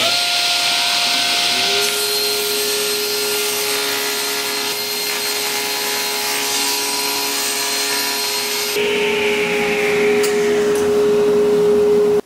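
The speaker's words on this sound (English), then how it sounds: "I built this panel and the grain is running this way, so I'll cut a strip off." A power tool cuts a strip off a handmade wooden panel, a steady loud whining buzz running continuously for the whole stretch, with a slight shift in pitch partway through as the blade works along the grain.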